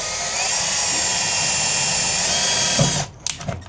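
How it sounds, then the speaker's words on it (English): A loud, high-pitched whine of a power drill with a 3/32 bit running steadily into metal for about three seconds, then cutting off with a few brief clicks. "drill between this lower line and this upper line right there at that meaty section"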